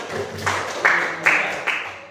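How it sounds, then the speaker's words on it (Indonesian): A classroom group claps together in unison, four broad, evenly spaced bursts of many hands, fairly loud and close, with little talk. "Beri tepuk tangan untuk kita semua."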